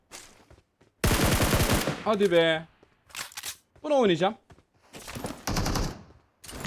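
Automatic gunfire rattles out in a fast burst in the mobile shooter game PUBG Mobile, followed by shorter clicks and shots, while a player talks between and over the action.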